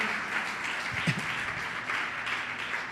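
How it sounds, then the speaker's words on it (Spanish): A church congregation applauds during a service, a steady wash of clapping at moderate distance lasting throughout, with a brief low voice or thump partway through. "Se le hace un aplauso al Señor porque Dios es bueno."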